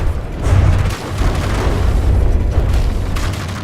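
Heavy, dense booming bursts as a combat robot in a video game empties all its guns, loud and continuous over a few seconds with no voices.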